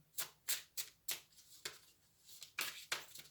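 Tarot cards riffled and shuffled in quick bursts, about eight sharp papery flutters close up, with brief pauses between them and no talking.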